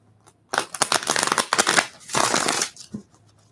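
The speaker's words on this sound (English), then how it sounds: "Get a couple more shuffles in for my Libras." Tarot cards shuffled by hand in two quick bursts of rapid riffling flutter, close and crisp, separated by a short pause, with no voices.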